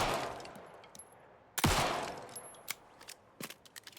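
A single loud gunshot fired at a birdhouse in the video game Alan Wake 2, a sharp blast that stands out from quieter ambient game sounds and a few smaller clicks.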